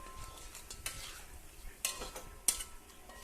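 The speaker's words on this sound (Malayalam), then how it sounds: "ആ അരപ്പിലേക്ക് നമ്മൾ ചേർത്ത് നമ്മൾ നന്നായി ഇളക്കിയെടുക്കണം." Cleaned crab pieces being stirred into masala paste in a pan for crab curry, soft scraping and gentle sizzle with a couple of sharp utensil clinks, close and quiet.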